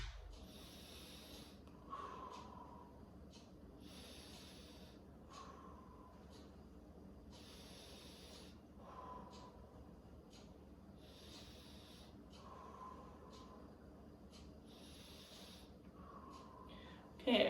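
A patient takes slow, deep breaths during lung auscultation, soft airy inhales and exhales repeating about every two seconds, quiet and close with no talking.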